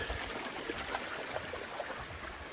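A brook runs beside a hiking trail on Camel's Hump, giving a steady close rush and trickle of water with no talking.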